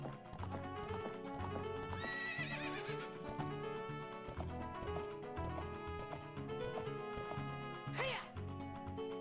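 Horse neighing and hooves from the video game The Legend of Zelda: Ocarina of Time, with a loud whinny over steady clip-clopping and game music, and a second sharp neigh near the end.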